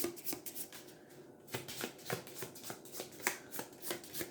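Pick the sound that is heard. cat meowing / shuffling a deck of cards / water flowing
shuffling a deck of cards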